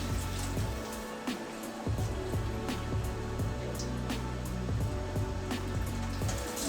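Beef tripe being rinsed under a running tap for tacos de tripa, a steady broadband splashing and rushing of water that continues close up for the whole stretch, with brief drips and knocks standing out.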